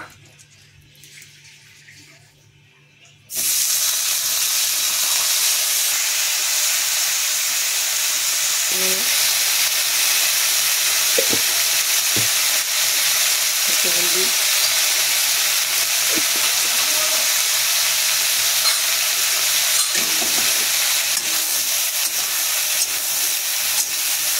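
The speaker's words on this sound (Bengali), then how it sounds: "এবার ফুলকপিটা ভেজে নেব।" Cauliflower frying in oil for a vegetarian dish: after a quiet start, a loud, dense sizzle bursts in and holds steady and close, with a few faint clinks underneath.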